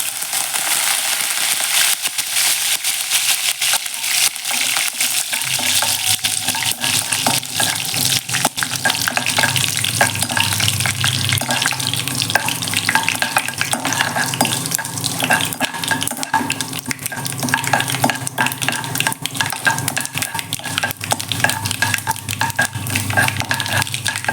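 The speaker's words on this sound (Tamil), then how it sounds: "கடுகு பொறிஞ்சோன்னா வெங்காயம் போட்டுக்கலாம்" Mustard seeds spluttering in hot oil with fenugreek and curry leaves for a home-style sundakkai vatha kuzhambu, a dense, loud, continuous crackle and sizzle with occasional stirring clinks.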